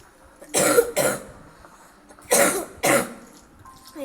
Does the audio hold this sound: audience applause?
no